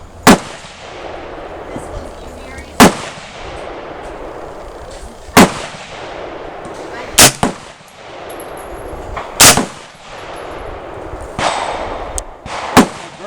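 New Frontier AR 45 rifle firing tool ammo, several sharp loud gunshots spaced a few seconds apart with echoing decay, one quick double shot near the middle, background noise between shots.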